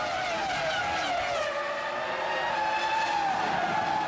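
Formula 1 cars, led by two Ferraris, accelerate off the grid at a 2002 race start, with high engine whines rising and sweeping in pitch as several cars scream past together, loud and continuous.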